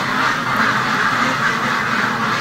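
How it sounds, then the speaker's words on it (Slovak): Ducklings quack continuously and loudly close by, their calls overlapping in a busy chorus without any talk. "A tu máme kačulky."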